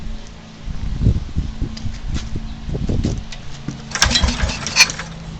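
A small petrol engine on half choke being pull-started, several bursts of rattling cranking and sputter with pauses between, close by, ending in brief louder rasping attempts that do not settle into running.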